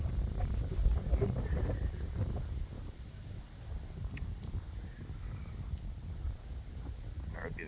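Strong northern wind buffets the microphone of a lone duck hunter sitting in a kayak, producing a continuous low roar and rumble of gusts with faint water sounds underneath.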